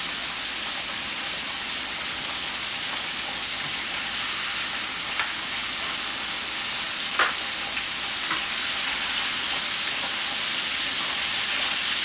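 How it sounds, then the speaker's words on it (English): Cube steak sizzles in a pan over high heat, a steady broad hiss of frying with a few faint pops and ticks, heard alone for several seconds. "So I have it up on high frying, okay? I have it on high heat."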